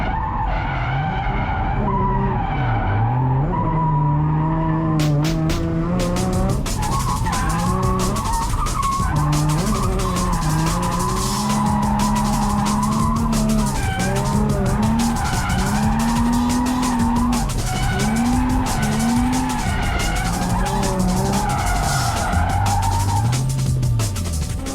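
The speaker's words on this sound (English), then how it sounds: "when I was ready, I got on the track and took the car out for a few laps" A drift car lapping a race track, its engine revving and falling in long wavering tones while the tires squeal and skid almost without a break, loud and close, with no voices.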